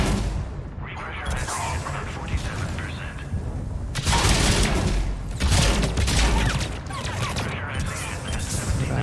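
Gunfire from enemies in Mass Effect 3 (PC, Omega DLC) crackles and booms in dense, repeated bursts across the whole stretch, loud and continuous, with a voice talking over the battle.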